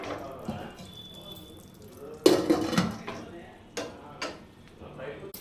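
A ladle scrapes and clinks against a pot while mutton curry is stirred, with a few sharp metallic knocks mixed into steady cooking sounds and someone talking throughout.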